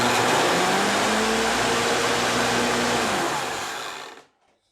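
A Sun Joe electric lawn dethatcher runs loud and steady with a whining motor hum, then winds down and cuts off near the end, no talking over it.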